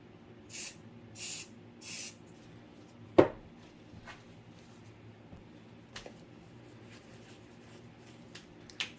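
Spray paint hissing from a can onto an abstract painting, three short bursts close by, followed by faint handling clicks and taps.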